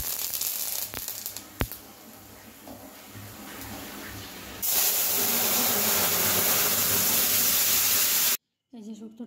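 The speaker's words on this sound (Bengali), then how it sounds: "এখন এটাতে সর্ষে দিয়ে ফোড়ন দেব।" Mustard seeds tempering in a spoonful of hot oil for a Bengali hilsa fish shukto. A steady, loud hissing sizzle starts suddenly after quieter kitchen noise, holds evenly for several seconds, then cuts off abruptly.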